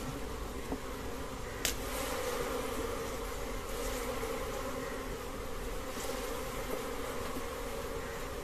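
Dense, steady buzzing of many honeybees inside a beehive during colony division, close and continuous with no voices.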